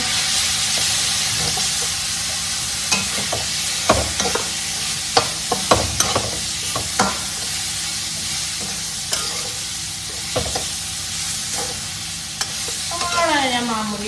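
Loud sizzling of tomatoes frying in a pan with frequent scraping and knocking of a spoon as they are stirred, steady throughout, no voices.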